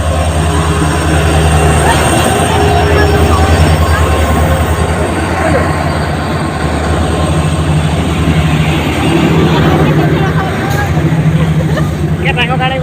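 A train at a railway station gives off a loud, steady rumble and rolling noise throughout, with a thin wheel squeal rising near the end and voices faintly present in the background.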